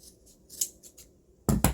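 Scissors snipping a sewn fabric belt-loop strip in two for a boy's pants project, a few quiet close snips followed by two louder, crisp cuts at the very end.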